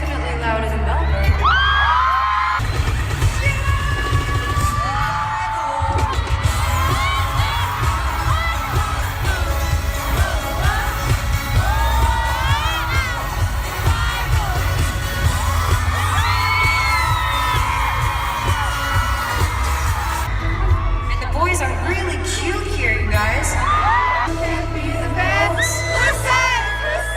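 A concert crowd cheers and screams loudly and continuously, with whoops and yells over a heavy low-end rumble of music, dense and close throughout with no clear speech.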